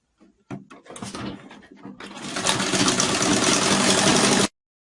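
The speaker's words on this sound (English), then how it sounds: "I want to sew the down part" A sewing machine stitches fabric for a contoured blouse, running steadily and loudly for several seconds after a brief stuttering start, then stopping abruptly with no talk.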